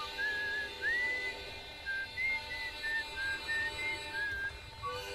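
A melodic whistled tune plays in short, clear notes over a faint electronic hum in the video game Outer Wilds, with no one speaking.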